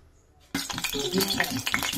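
Curry leaves dropped into hot oil in a home kitchen, a sudden loud sizzle bursting in after half a second of quiet and crackling steadily with spattering pops to the end.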